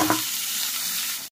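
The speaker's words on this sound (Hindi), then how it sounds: "एबे पियाज भाजी एबे जो पियाज छाणी" Onions frying in hot oil for chicken biryani give a steady, close hiss of sizzling for just over a second, with a brief clatter at the start before it cuts off.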